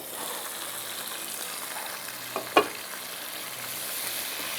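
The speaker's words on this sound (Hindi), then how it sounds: "इसको मैं चम्मच चलाती रहूँ" Potatoes fry in a pot while a spoon stirs them, a soft steady sizzle broken by a brief clink and scrape of the spoon midway.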